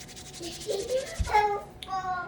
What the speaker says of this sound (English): Twist it, twist it. Rub it, palm roll it.